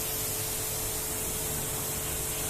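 Rinse water sprays over a Mercedes E220d during a wash, a steady close hiss of water jetting onto the car with no talk over it.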